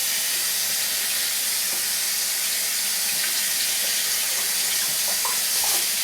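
Water runs steadily from a bathroom tap while hands are rinsed clean of shaving cream, a continuous close hiss of flowing water with faint splashes near the end and no speech.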